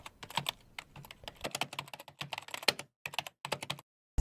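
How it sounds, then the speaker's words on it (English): Computer keyboard keys clicking in rapid, irregular bursts of typing with short pauses, close and crisp, no voices. "keyboard clicking,"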